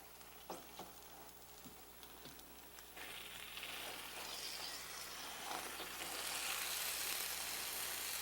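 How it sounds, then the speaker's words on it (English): Food sizzles in a hot pan, a faint, soft crackle with a few small pops early on, then the hiss grows a little fuller and steadier over the last few seconds, heard on its own without speech. "Do you hear the sizzling sound?"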